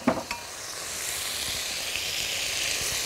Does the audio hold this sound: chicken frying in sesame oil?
yes